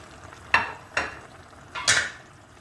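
Sautéed peppers are added to a simmering güveç stew pot, three soft sizzling splashes and scrapes spaced about a second apart, close up with no talk.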